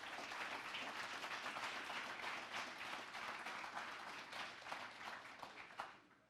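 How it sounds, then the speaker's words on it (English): An audience at a software conference talk applauds, a full dense wash of clapping from many hands that holds steady and then thins out toward the end. "let's give a round of applause to Maggie and team, please."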